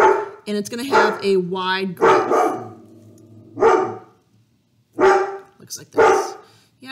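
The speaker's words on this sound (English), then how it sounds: "so that's my dog barking in the background." A dog barks repeatedly in short sharp bursts at close range, mixed in with a person talking through a math lesson.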